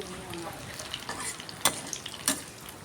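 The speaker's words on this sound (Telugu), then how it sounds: "ఆవాలు టప్ టప్ టప్ మనాలి చివరిలో అంటాయి చూడండి" Mustard seeds pop in hot oil: sharp crackles and pops over a steady hiss, with two louder snaps standing out near the end.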